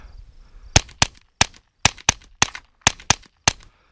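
A string of nine sharp .22 pistol shots from an FN 502 with an OSS suppressor at an uneven pace, each a quick crack with a short tail and quiet gaps between.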